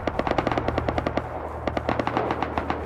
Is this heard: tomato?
no